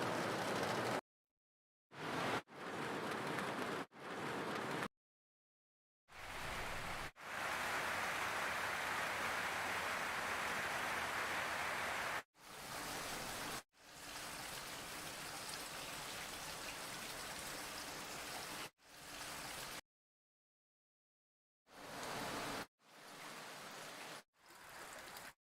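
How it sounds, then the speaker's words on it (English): Several rain sound samples for music production play one after another, each a dense hiss of falling rain and drops on surfaces, separated by abrupt silent gaps and changing texture between samples. "we got 4 different rain sounds"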